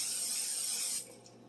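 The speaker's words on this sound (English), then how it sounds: "I'm going to spray the bread with a little bit of butter spray" Butter spray hisses from an aerosol can onto bread in a kitchen, a steady one-second burst of spray that cuts off abruptly, followed by quiet.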